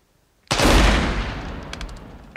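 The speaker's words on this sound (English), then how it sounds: "next time you shoot, you gotta pump it" A single loud pump-action shotgun blast goes off close by after a moment of silence, its boom rolling and decaying over about two seconds, with a faint clack near the end.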